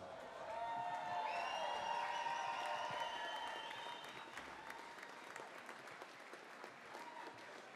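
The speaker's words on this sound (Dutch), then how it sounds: "En geeft hier zo'n heel goed applaus" Applause and some cheering from a crowd at a carnival society gathering honouring a new prince and his adjutants, swelling loudly in the first seconds then thinning out, with whistle-like tones and chatter mixed in.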